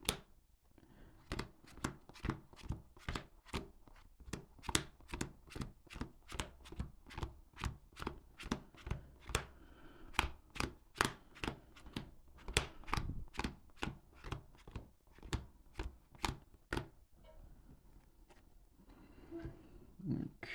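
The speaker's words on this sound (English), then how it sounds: "let's get a pile shuffle going." Rapid pile shuffling of a trading card game deck: a long run of sharp, evenly spaced snaps and slaps, close and crisp, continuing for about twenty seconds with no talking.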